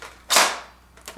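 A Nerf Rapid Strike blaster, revved up, fires a single dart: one sharp, loud pop followed by a brief decaying whoosh and a faint second click at the end.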